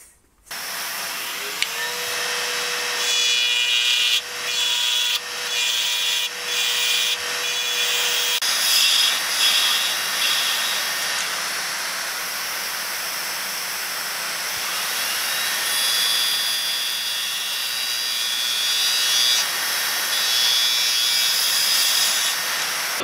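Wood turning on a lathe while hollowing an inside-out Christmas tree ornament, a steady loud whirring hum with a continuous scraping rasp of the tool on the spinning workpiece, sustained throughout and close, with no talking.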